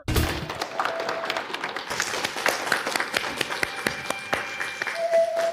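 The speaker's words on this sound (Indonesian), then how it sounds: "Mari sambut dengan tepuk tangan meriah" An audience at a jewelry competition event applauds to welcome the director of the Shuanglong Group, a crowd of hands clapping with distinct sharp claps, steady and fairly close throughout.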